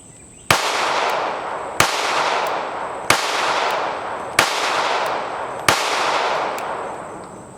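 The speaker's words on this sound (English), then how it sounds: "we're going to shoot about 5 rounds, and then we're going to shoot the Smith about 5 rounds" Five sharp pistol shots from a Ruger LCP Max and a S&W Bodyguard 2.0 crack out one at a time about a second apart, each loud report followed by a brief ringing decay, with no talking.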